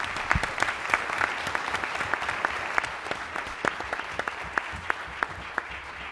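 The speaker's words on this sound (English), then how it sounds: "just want to give him one more round of applause" Sustained applause from an audience at a live health care hearing, steady dense clapping throughout with no speech.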